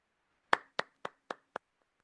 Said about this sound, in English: I had to applaud.